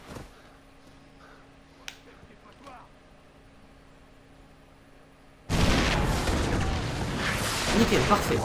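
A bomb goes off in Far Cry 3, a sudden loud broadband roar that cuts in after several quiet seconds of faint ambience and small clicks, then holds as a sustained rumbling blast to the end.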